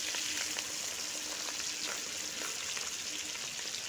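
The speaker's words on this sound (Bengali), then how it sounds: "এই মাছগুলোও ভাজা হয়ে গেছে, একটু উল্টে পাল্টে দিচ্ছি" Bata fish frying in hot oil as the pieces are turned over, a steady close sizzle with crackling pops and faint scraping from the flipping.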